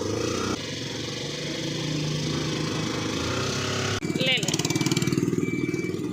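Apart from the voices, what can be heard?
auto rickshaw with a loud rocket-like engine sound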